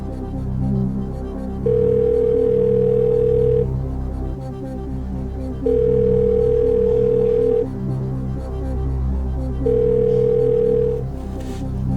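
A telephone call being placed for a phone-a-friend lifeline on a game-show parody: three long, loud tones repeat evenly about every four seconds, with a low musical background beneath them.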